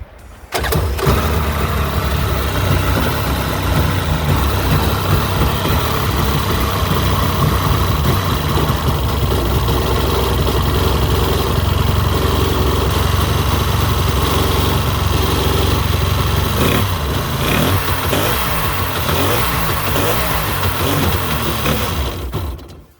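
A Yamaha Waveraider jet ski engine, choke on, catches and starts, then runs loud and steady at a rough, buzzing idle throughout before cutting off abruptly at the end.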